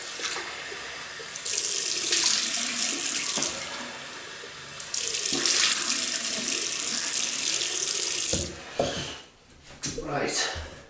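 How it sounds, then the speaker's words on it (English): A bathroom tap runs in bursts to rinse off shaving soap, splashing into the sink; the water stops and starts, followed by a few knocks and handling sounds, with talk in the room. "so I'm gonna rinse that off."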